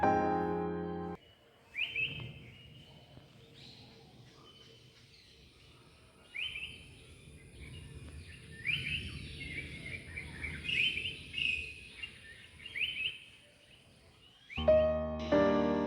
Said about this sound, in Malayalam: കാട്ടിലെ കിളികളുടെ നാദവും ചീവീടിൻ്റെ കരച്ചിലും കാറ്റിൻ്റെ ഒച്ചയും